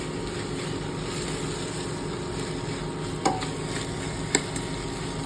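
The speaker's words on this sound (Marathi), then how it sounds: "सगळं जणस आपण मिक्स करायचं आहे." Khichdi ingredients, a bowl of rice with a spoon of salt, being mixed in a pan on the stove: a steady low scraping and stirring bed with a couple of brief clinks of the spoon against the pan.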